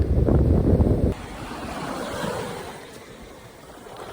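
Ocean waves washing onto Chile Beach on Cape York Peninsula at sunrise, a loud rushing surge for the first second that falls to a steady softer wash of surf, with wind noise buffeting the microphone throughout.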